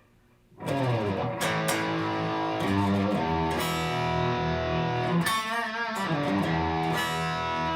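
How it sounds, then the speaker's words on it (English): An electric guitar plays heavily distorted chords through an amp's dirty channel with no pedals, loud and sustained, with a few shifting chord changes after a quiet start. "Now if I go into the dirty channel of the amp with no pedals, this is what you would be hearing"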